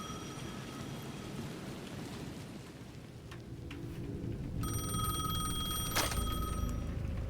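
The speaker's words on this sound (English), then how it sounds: "The payphone at the edge of the plaza was ringing again." A ringing payphone in the video game Alan Wake 2, a steady electronic ring rising partway through over a constant rain-like ambient hiss, with a sharp knock near the end.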